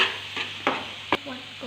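Paneer gravy being sautéed and turned in a pan, a low sizzle under a few distinct stirring scrapes and knocks spread across a short moment.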